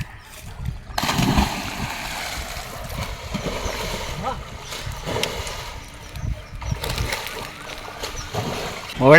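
Water splashing and sloshing in a village pond in Palakkad as someone bathes after a morning of fishing work, irregular splashes close by throughout with people chatting.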